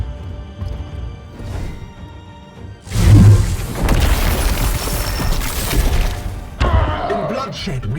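A grenade detonates in the video game Warhammer 40K: Chaos Gate with a sudden heavy boom and crashing debris, followed by sustained rumbling and a second smaller crash, loud and close.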